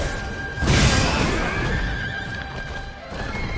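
A horse in the video game Wo Long: Fallen Dynasty lets out a loud, close neigh that swells and trails off over a couple of seconds above a busy game background.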